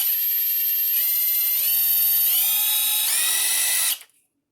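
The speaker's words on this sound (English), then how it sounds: "Next up, we have the Hilti TSI D2-A12 1/4-inch single speed" A Hilti TSI D2-A12 12V brushless 1/4-inch impact driver with a variable speed trigger runs steadily at a high whine, shifting pitch in steps as the trigger changes, then cuts off and winds down near the end.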